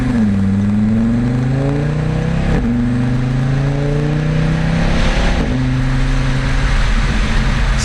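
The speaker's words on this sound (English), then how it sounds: "Sound of this car is pretty spectacular" A 2023 Audi RS3 engine revs loudly and continuously in sport mode, its pitch sweeping up and down through several rising and falling pulls with no voices over it.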